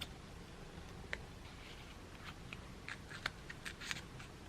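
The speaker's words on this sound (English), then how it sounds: "Next we are going to cut 1 more circle, and then till the middle we'll make a cut." Scissors cut a circle out of paper or card while making a football-themed decoration, giving sparse, faint snips and clicks that come closer together toward the end, with no speech.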